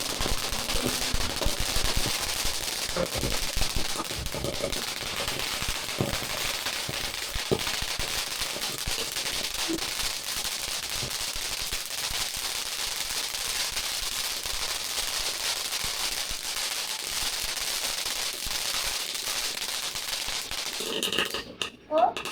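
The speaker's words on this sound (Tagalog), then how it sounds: "Mas fireworks tayo." Continuous dense crackling of New Year's firecrackers and fireworks, loud and sustained throughout, with scattered sharper bangs and voices faintly beneath the barrage.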